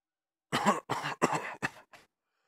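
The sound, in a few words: cough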